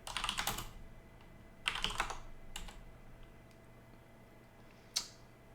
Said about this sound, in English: I'm just going to type in Arista